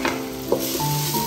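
Sliced onions sautéing in a pan for a beef biriyani, a steady close sizzle with a few brief stirring clatters across a short stretch, no voices.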